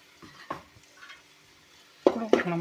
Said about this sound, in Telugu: ఇప్పుడు మనం బాగా కలుపుకోవాలి దీన్ని